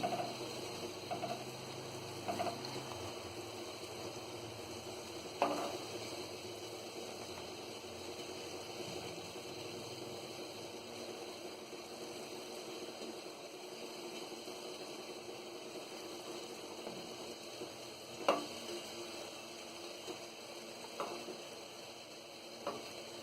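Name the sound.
semolina gulab jamun frying in oil on medium gas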